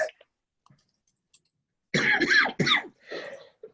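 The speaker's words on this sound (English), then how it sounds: "I will try to stop coughing long enough to talk about this." A few harsh coughs in quick succession after a quiet pause, close to the microphone.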